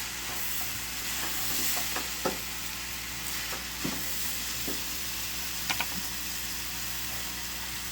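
Lentils for khichdi fry in a pan, a continuous close sizzle with occasional spoon scrapes and stirring knocks, fairly even in loudness.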